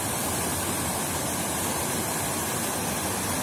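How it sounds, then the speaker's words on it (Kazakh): Mountain stream water rushes and cascades near Almaarasan, a dense, constant close-up roar of flowing water with no pauses or voices. "Жылғалардан су ағады, сарқырап."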